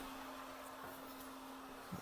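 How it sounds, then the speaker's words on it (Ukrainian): A constant whooshing roar of a heat gun blowing hot air in a garage runs steadily throughout, with a faint hum underneath. "Тато вже щось феном гріє."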